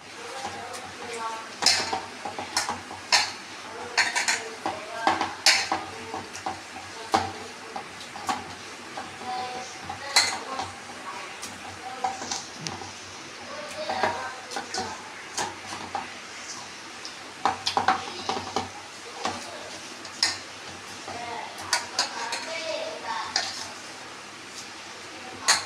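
Pomfret fish is mixed by hand with onion juice, green chili, pepper and spices in a bowl, giving soft wet squelches and clinks of dishes at close range, with a voice speaking at times.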